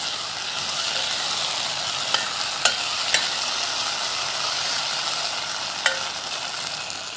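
Cubed potatoes fry in a pan for an aloo beans masala curry, giving a steady, even sizzle, with a few sharp clicks of a spoon against the pan.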